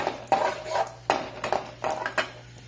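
Roasted green moong dal scraped from a pan onto a plate: several sharp metallic clinks and scrapes of a spoon against cookware, loud and close, in an irregular run with no talking.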